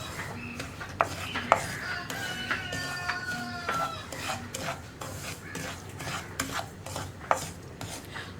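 Semolina being stirred as it roasts in a pan for rava puttu, a steady close scraping and rasping of the utensil against the pan with a few sharper knocks.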